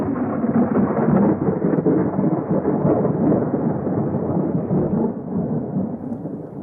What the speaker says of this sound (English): There was a great storm